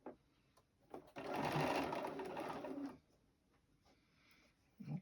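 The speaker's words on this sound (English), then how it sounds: "we're going to start from the center of the block and stitch outward" A sewing machine stitches a quilt block for a star table topper, a steady close whirring run of about two seconds between quieter handling noises, no talk.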